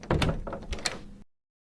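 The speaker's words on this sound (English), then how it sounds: "Then the door opened slowly." A door opening slowly, heard as a close dull thunk with a brief creaky, sliding movement lasting about a second before falling silent in a quiet room.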